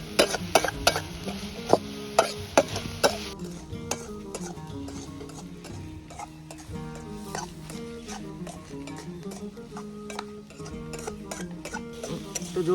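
Spoon stirring red chili, turmeric and salt into radish leaf curry in a metal pan, repeated scraping clinks and taps in an uneven rhythm, close and fairly quiet, with a soft sizzle beneath.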